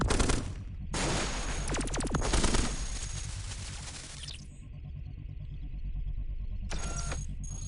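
Weapon fire in the robot roguelike Cogmind: loud bursts of rapid shots and blasts in two clusters, then a sustained mechanical hum and a final burst near the end, with no talking.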